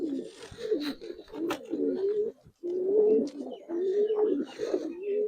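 Girībāz and coloured pigeons coo repeatedly at close range, a continuous run of rolling, throaty calls with one brief pause, clear and moderately loud.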